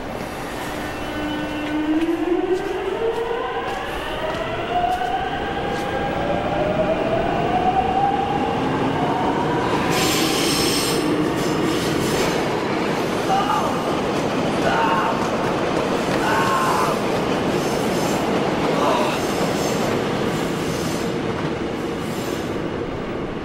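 Steady rumble of a subway car in motion with rising whine as it accelerates, rattling clacks and a squeal of wheels on rails.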